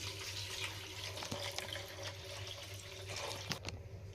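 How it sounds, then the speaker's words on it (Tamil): Water poured into a tomato and masala curry base for an egg kuzhambu, a steady faint splashing gush lasting a few seconds in a quiet kitchen. "இப்போ தண்ணி ஊற்றிக்கலாம்."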